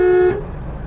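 A car horn gives a single steady honk lasting about a third of a second, cut off abruptly, while driving in busy road traffic with engine and road noise underneath.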